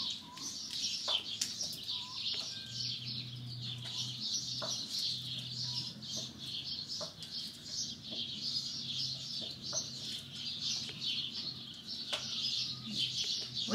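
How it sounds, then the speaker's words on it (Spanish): Birds chirp and sing outdoors on a ranch, bright repeated tweets layered over one another, with clucking chickens and a soft cooing dove lower down, steady and moderately distant. "Nomás qué bonito se escuchan los pájaros"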